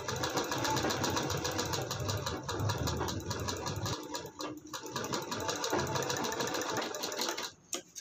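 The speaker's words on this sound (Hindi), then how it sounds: "डबल डबल करते हुए हाफ हाफ इंच पे सिलाई लगा देना है पहले पाइपिंग को ज्वाइंट कर लेंगे" A sewing machine stitches piping onto a long-sleeved blouse at home, running in a fast steady whir, then pausing and restarting in shorter runs toward the end, loud and close.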